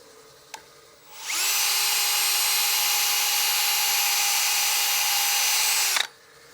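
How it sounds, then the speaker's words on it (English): A power sander works the lacquered rim of a dyed wood platter, a steady high whine starting about a second in, holding constant and close for roughly five seconds, then cutting off. "I think there are still some bumpy areas I want to sand out just right here on this last inch of the rim"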